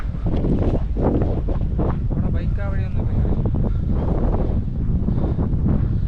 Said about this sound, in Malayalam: ഇവിടെ നല്ല കാറ്റുണ്ട്.